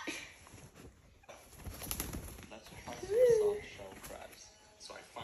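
Rescued myna bird that had been blown in by a storm gives a brief rising squeak partway through, quiet and close, while people talk softly around it amid faint household noise.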